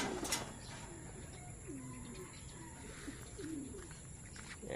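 Soft, low pigeon coos repeat several times under steady background hiss, with a brief rustle near the start, at a racing pigeon training toss in Norzagaray.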